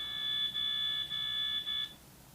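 A Tapo C520WS security camera's shrill red alert alarm tone blares in repeated pulses, three or four bursts with short gaps, then cuts off, leaving quiet room noise.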